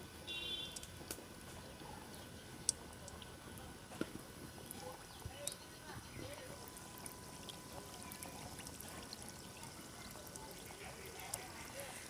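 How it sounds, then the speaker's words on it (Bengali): Balushahi sweets fry in hot oil, a steady soft sizzle and bubbling hiss running evenly throughout with faint scattered pops and ticks. "এবার আমি বালুশাই মিষ্টিগুলো দিয়ে ভেজে নেবো"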